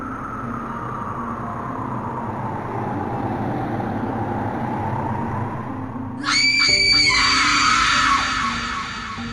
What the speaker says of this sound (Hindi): तभी सामने से चीखने चिल्लाने की आवाज आने लगती है।